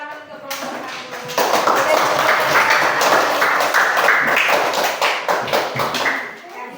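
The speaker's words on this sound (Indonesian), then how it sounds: "Kita kasih tepuk tangan untuk kelompok satu." A classroom of students clapping for the first group, a dense sustained round of applause with many hands, loud and near, lasting several seconds before tapering off.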